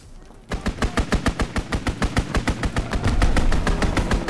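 Strafing-run machine gun fire in the Call of Duty WW2 multiplayer mode Hardpoint on the Pointe du Hoc map: a fast, steady burst of rapid loud shots starting after a brief quiet lead-in and running continuously to the end, with a rumbling undertone building.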